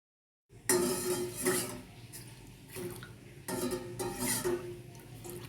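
A spoon clinks and scrapes against a metal pot while milk is stirred as it heats toward a boil, the strokes repeating steadily over a soft liquid wash with no talk.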